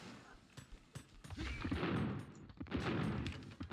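Cannon shots in Age of Empires II, a rapid scatter of booming battle blasts over a few seconds, some crowded together, heard under someone talking.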